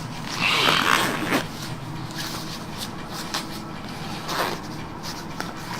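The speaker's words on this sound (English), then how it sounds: "And then we close the zipper." The zipper of a polar snorkeling suit is drawn closed with a short rasping pull, followed by faint rustling of fabric and quiet handling noises nearby.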